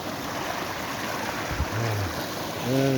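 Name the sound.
flowing water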